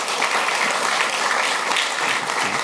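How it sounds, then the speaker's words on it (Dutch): Audience applause at a panel discussion on lethal violence, a dense and continuous wash of clapping from many hands, loud and even throughout without pause. "En mag ik een hartelijk applaus."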